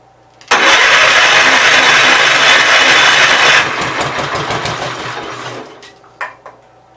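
A Gravely 810 tractor engine with a flooding carburetor catches abruptly and runs loud and rough for about three seconds, then its roar drops and sputters unevenly before cutting out, leaving a few faint knocks.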